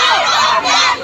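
Female college students at a protest chanting slogans together, a dense, loud crowd of voices shouting in unison, close and continuous for the whole short moment.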